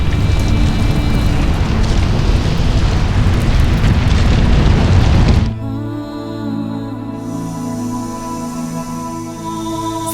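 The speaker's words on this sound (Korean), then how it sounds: "베수비오 산이 폭발했다. 순식간에 수백만 톤의 화산 폭발 잔해물이 도시 위로 쏟아졌다." The eruption of Mount Vesuvius over the Roman city of Pompeii is a loud, continuous roaring rumble with heavy broadband noise that cuts abruptly to a quieter, tonal ambience for the rest.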